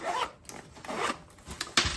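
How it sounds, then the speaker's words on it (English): A zipper on a Lee Filters filter pouch being opened, heard as several short, close rasping pulls in quick succession, with no voices. "zippers on the side."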